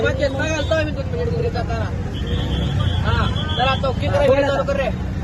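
Auto rickshaw ride near a yatra in Solapur, with a constant droning engine and road rumble underneath, overlaid by several people talking continuously nearby.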